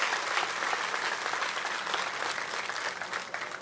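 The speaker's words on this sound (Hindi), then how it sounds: "जोरदार तालियां मार के सभी ने स्वागत करना चाहिए" Crowd applause at an outdoor political rally in Maharashtra welcoming Devendra Fadnavis, a dense, steady roar of many hands clapping that holds loud and continuous throughout.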